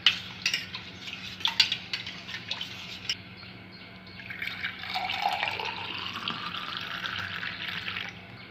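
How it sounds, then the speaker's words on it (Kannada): Amla juice being stirred with a spoon after black pepper powder is added, with light clinks of the spoon against the container followed by a steady swishing, swirling liquid sound up close. "ಈಗ ಎಲ್ಲ ಮಿಕ್ಸ್ ಮಾಡ್ತಾಯಿದ್ದೀನಿ."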